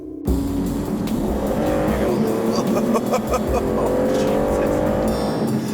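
An Aston Martin V12 Vanquish driven fast, engine roaring loud and near with rising and falling revs and some tyre squeal, continuous through the stretch.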